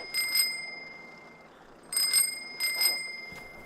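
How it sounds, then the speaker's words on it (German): A bicycle bell in the video game DayZ rings in repeated bursts, bright metallic trills sounding close and loud with short gaps between them, and no talk over it. "Klingel hört nicht mehr auf."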